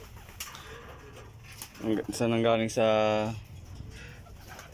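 Racing pigeons at the loft during a derby race make a few close, throaty cooing calls in quick succession, with someone talking briefly nearby.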